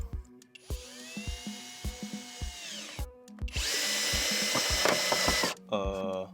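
Power drill driving a screw with a washer through a panel on a 2019 BMW X3 M40, starting with short ratcheting bursts and clicks, then one long whining run, close up.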